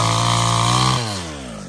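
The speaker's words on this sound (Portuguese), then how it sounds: "Você vai pegar na motosserra?" A chainsaw runs steadily at high revs near a Brazilian farm where fencing and a forage plot are being prepared, then its pitch drops sharply as the engine eases off toward idle, with no talk over it.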